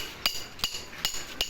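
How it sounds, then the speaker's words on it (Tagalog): A hammer strikes metal four times at an even pace during a motorcycle repair, each blow sharp, close and ringing briefly. "Martilyo."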